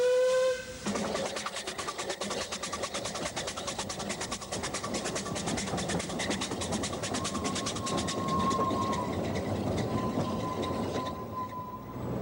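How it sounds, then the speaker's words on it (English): A narrow-gauge steam train in Wales climbs through forest, rumbling and clattering along the track with steady rhythmic wheel beats, a steam whistle sounding at the start and steam hissing throughout. "Leaving Minforth, the railway soon begins to climb, the line twisting through the forest"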